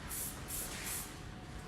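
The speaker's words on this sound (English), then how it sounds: "So I'm going to spray the hair" A hand spray bottle mists water onto curly hair during a freehand haircut, giving three quick, close hissing bursts in a regular rhythm, fairly quiet, with no voices.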